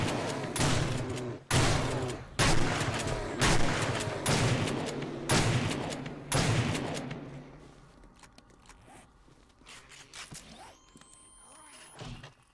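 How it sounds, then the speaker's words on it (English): Shotgun blasts from the survival game 7 Days to Die: six loud, evenly spaced booms about a second apart, each with a long tail, fading into quieter ambience with faint movement afterward. "come on, load the shotgun"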